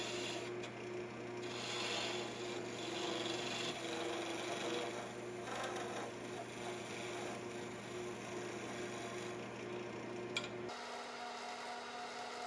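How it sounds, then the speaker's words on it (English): A parting tool cuts into a spinning wooden cake stand spindle on a lathe, producing a steady close-up scraping hiss over a constant motor hum that shifts near the end, without any talk. "I use a parting tool to set my top and bottom dimensions."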